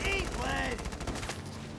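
Gunfire from the Valkyria Chronicles 4 video game, a burst of rapid shots over game music and effects, followed by a fading echo.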